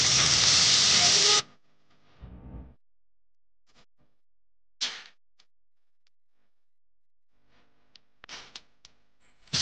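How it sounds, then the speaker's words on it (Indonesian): Ground spice paste hits a hot pan and sizzles with a loud hissing burst that cuts off abruptly, followed by faint scattered clinks and short stirring sounds amid near silence. "Tumis-tumis dan aduk bumbunya hingga tanak."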